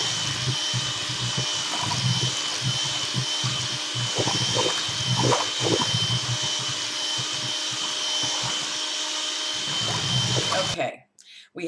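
An electric hand mixer whirs steadily and loudly as it beats eggs into a brown sugar and butter mixture, a continuous motor drone with small bumps in tone, stopping abruptly at the end.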